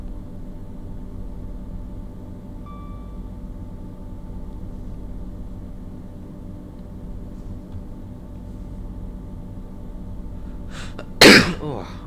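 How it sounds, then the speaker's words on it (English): After a long stretch of steady low rumble from a train simulator, one sharp, loud sneeze bursts out close to the microphone near the end. "I did try and get to the mic button there, but I was too slow. Sneeze beat me."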